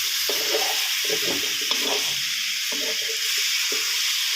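Chicken curry stir-fried in a pan for a Thai dish, with a loud, steady sizzle and hiss and repeated scraping and stirring strokes, close up and without talk.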